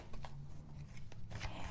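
Tarot cards being shuffled by hand in a soft, continuous riffling rustle with a few sharper flicks, close and fairly quiet, no talking.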